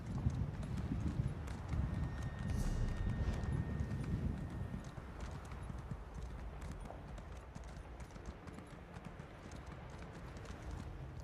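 Steady clip-clopping of horse hooves in the online game ESO, a dense continuous trot that is loudest at first and then settles to a softer, even rhythm.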